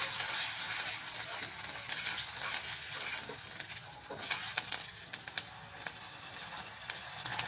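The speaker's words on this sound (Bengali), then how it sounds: "এরপর দিয়ে দেবো আদা বাটা, রসুন বাটা দিয়ে এটাকে একটু ভালো করে ভেজে নেব কিছুক্ষণ।" Onions with ginger and garlic paste fry in a pan with a soft, constant sizzle. Scattered clicks and taps from stirring grow more frequent toward the end.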